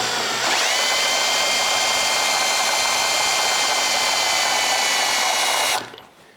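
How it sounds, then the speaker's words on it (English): A power drill spins a Triumph Spitfire differential at about 1700 RPM, a loud steady high-pitched whine with no speech, starting abruptly and cutting off near the end. "Go the other direction again, about 1700 RPM, whatever the drill runs."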